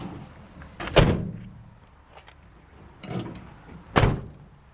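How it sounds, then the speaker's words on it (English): Rear barn doors of a Vauxhall Movano wheelchair-accessible van swung shut, two solid slams with a lighter clunk between them, fairly close, no talking. "Close the barn doors."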